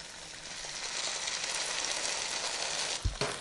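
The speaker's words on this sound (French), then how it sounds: "On va pouvoir les faire dorer dans la sauteuse" Onion and garlic fry in olive oil in a sauté pan, giving a steady close hiss and sizzle throughout, with a couple of brief knocks near the end, and no talk.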